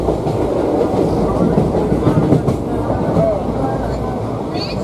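Steady rumble and rhythmic clatter of a moving passenger train heard from inside the carriage, continuous and fairly loud throughout, with faint murmurs of people in the background.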